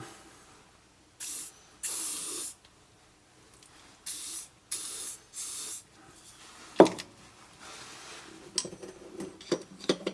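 Several short hissing bursts of penetrating oil spray, close by, separated by brief pauses, followed by faint clicks and handling noises, on the front wheel bearing of a 2006 Mercedes C200 CDI.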